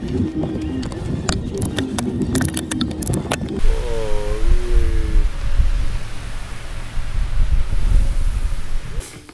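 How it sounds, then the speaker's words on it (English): Wind gusting over a Rocky Mountain hillside, a steady broadband roar and buffeting against the microphone, with rustling and low rumble, loud throughout and rising in gusts. "Wee bit windy going up the hill."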